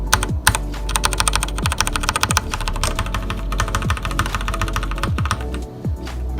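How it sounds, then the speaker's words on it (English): Fast, continuous typing on a Svive Triton gaming keyboard with Cherry MX Red switches, close-up, with dense overlapping key clacks and occasional heavier strokes. "This is how the cherry red sounds."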